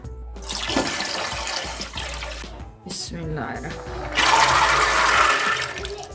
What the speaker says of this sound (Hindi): इसके अंदर 2 से 3 गिलास हम पानी डालेंगे